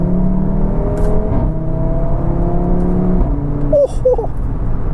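An Audi RS3 engine revs and pulls hard under acceleration, a steady loud drone that rises in pitch through the gears, heard from inside the car with a faint whir underneath.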